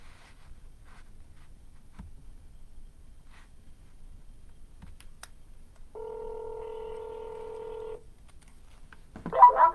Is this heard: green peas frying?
no